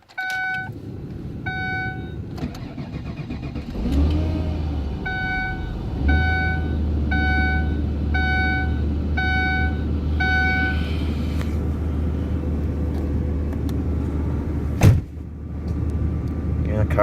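A 2005 Ford Taurus is started cold at about -1 degrees, with a repeating series of electronic chimes over a low rumble before the engine catches and settles into a steady idle, with a sharp knock near the end.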